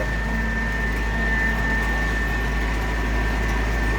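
Inside the cab of a DTZ 504 tractor, the engine runs at a constant steady drone with a persistent low hum and a thin high whine, unchanging throughout.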